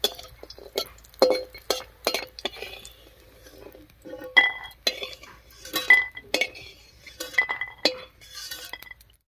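Fried lentil dumplings are lifted out of a pan, with sharp metal clinks and scrapes of a utensil against cookware in irregular bursts over a quiet background.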